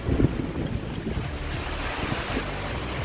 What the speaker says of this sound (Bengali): এদিকে ঝড় হাওয়া, তার সঙ্গে বৃষ্টি।